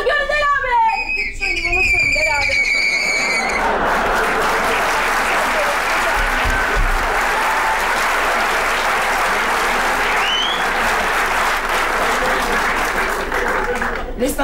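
A studio audience in a Turkish comedy show applauds loudly and steadily for several seconds, with whistles and cheers at the start. Voices can be heard talking over the clapping.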